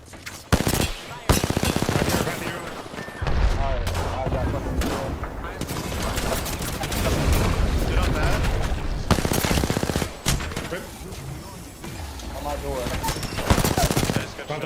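Gunfire in the video game Apex Legends, with rapid automatic bursts and single shots crackling close and loud, plus talk over the fighting.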